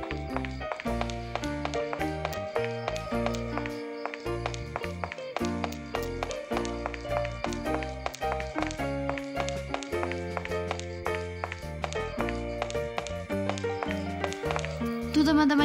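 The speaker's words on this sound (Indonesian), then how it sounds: "maksudnya kedengeran suara langkah kakinya" Footsteps of a character in the game Sakura School Simulator, a steady run of quick, light tapping steps heard continuously beneath looping background music.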